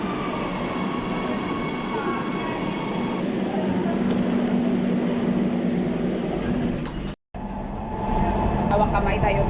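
A passenger train ride makes a steady, loud rumble and rattle from start to finish. It breaks off briefly near the end before resuming, with faint voices in the background.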